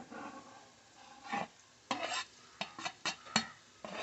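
A spoon stirring coconut and cumin masala in a pan, producing soft intermittent scraping and clinking strokes with a faint sizzle underneath, close and fairly quiet.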